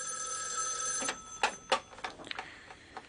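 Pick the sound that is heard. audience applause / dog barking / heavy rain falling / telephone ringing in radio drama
telephone ringing in radio drama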